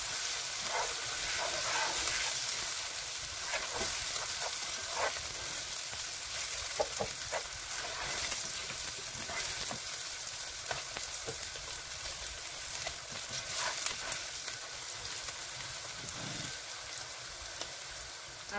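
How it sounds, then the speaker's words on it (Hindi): Onion, garlic and ginger sizzle in a hot pan on a home stove, a steady dense frying hiss with scattered clinks and scrapes of stirring, close and continuous. "अब मैं इसके अंदर लहसुन और अदरक डाल रही हूँ। दो मिनट के लिए इसको मिक्स करना है।"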